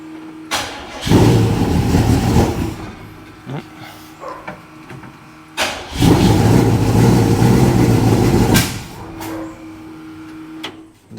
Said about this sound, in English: let's give it a little bit of throttle